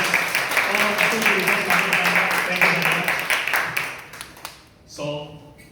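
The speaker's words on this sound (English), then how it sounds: "Give a big round of applause." Audience applause at a Toastmasters club meeting in Jakarta, a dense steady round of clapping that holds for about four seconds, then fades and is followed by a brief voice.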